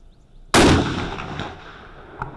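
One loud, close 6.5 Creedmoor rifle shot fired outdoors, a sharp blast with a decaying echo rolling away for nearly two seconds, faint low background before it.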